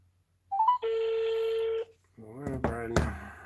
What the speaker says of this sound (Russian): Звоним.